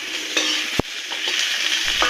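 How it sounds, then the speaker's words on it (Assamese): Potatoes fry with onions and ginger-garlic paste in a hot pan, giving a steady, loud sizzle. A single utensil knock cuts through, with fainter scrapes around it and no speech. "আলুখিনি এতিয়া ভাজা"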